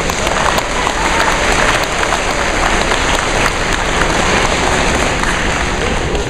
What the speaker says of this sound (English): Please give her a round of applause if you will.